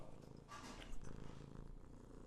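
A cat purrs right against a microphone, a quiet, steady low rumble mixed with soft rubbing noises, with no voices.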